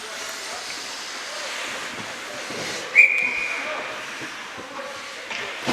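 A referee's whistle in a high school ice hockey game: one short, sharp blast well back in a busy rink, over steady crowd and arena noise.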